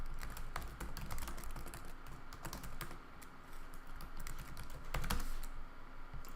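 Rapid, uneven keystrokes clatter on a computer keyboard as a password is entered, close and fairly quiet, a dense run of clicks with brief pauses and no voices.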